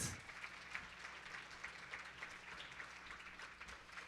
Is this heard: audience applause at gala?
yes